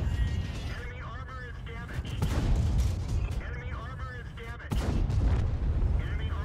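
Tank guns firing in World of Tanks during a battle on the Lakeville map, with heavy booming shots near 2 and 4.7 seconds over a constant low rumble of engines and battle noise, while a voice talks throughout.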